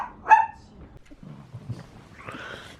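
A dog gives a sharp yelping bark near the start, then low rumbles and a whining cry follow indoors beside a fireplace, fairly close and moderately loud, with little else over it.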